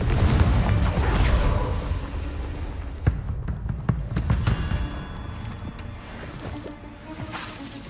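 Confringo fire spell blasts in Hogwarts Legacy, a dense rumbling barrage of explosive booms with sharp cracking impacts around the three- and four-second marks, loud and continuous throughout.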